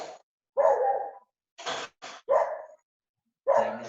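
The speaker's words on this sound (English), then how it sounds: "Who's the one with the dog in the background?" A dog barks in short loud bursts, several sharp woofs spaced irregularly with silent gaps, heard clearly and alone in the background of an online meeting.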